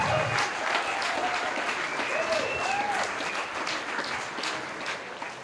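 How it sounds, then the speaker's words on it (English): An audience at a Whānau festival applauds the organisers with steady, dense clapping that carries through the whole stretch and eases slightly toward the end, while voices call and chatter underneath. "So a round of applause for them."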